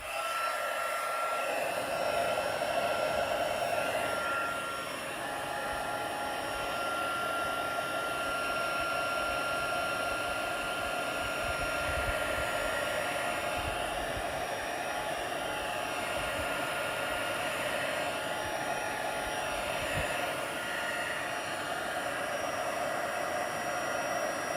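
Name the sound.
heat embossing tool blowing hot air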